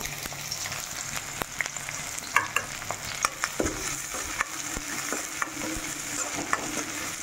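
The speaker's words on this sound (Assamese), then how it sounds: "তেলখিনি গৰম হৈ গৈছে, এতিয়া পিঁয়াজ আৰু জলকীয়া দি দিওঁ" Onions and chillies fry in hot oil in a home kitchen, a steady loud sizzle with scattered clinks and scrapes of stirring, close by and without voices.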